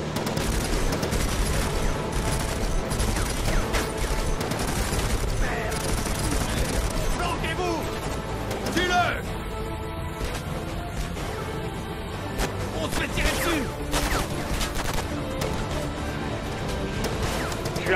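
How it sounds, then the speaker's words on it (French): Continuous heavy gunfire and crashing impacts in the shooter game Conflict: Denied Ops during a raid on an oil refinery, dense loud volleys that barely let up, with voices speaking over the battle. "Tire de couverture."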